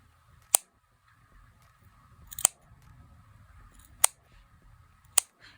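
A Moon knife cutting fur fabric makes four sharp, isolated snips spaced a second or two apart, crisp and close against an otherwise quiet background with faint low rustling.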